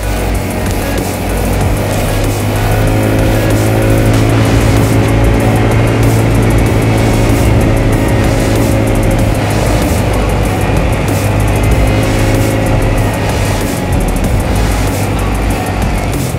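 An automatic scooter motorcycle rides along a road on a morning trip, its engine and wind noise forming a loud, steady drone with a slowly rising and falling tone throughout.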